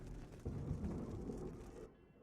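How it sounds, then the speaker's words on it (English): Rumbling thunder in a violent video game thunderstorm, a loud low roll with rain hiss beneath, fading out abruptly near the end. "thunder from these megabolts hits you like the shockwave of an explosion"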